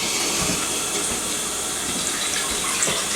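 Water streams steadily into a gravy mix for a roast dinner, a continuous close hiss and splash with no talk.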